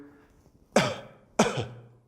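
Two short, sharp coughs spaced about half a second apart, close and clear against a quiet background.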